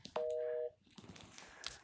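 A single short tone from a phone on speakerphone sounds with a steady, even pitch, followed by faint clicks and room noise, heard fairly quietly.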